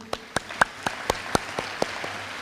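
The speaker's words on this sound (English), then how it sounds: "everybody sitting out here deserves a round of applause" Applause at a high school class of 2021 scholarship night comes through as distinct, evenly spaced claps, about four per second, crisp and fairly close.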